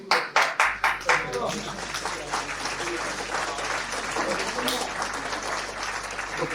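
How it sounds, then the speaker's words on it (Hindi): Hands clap first in a few distinct sharp strikes. Then an audience at an Urdu conference in Chicago breaks into sustained applause welcoming a speaker, continuous and moderately loud, with a steady hum underneath and some voices. "तो तशरीफ लाते हैं आपकी तालियों की गूंज में"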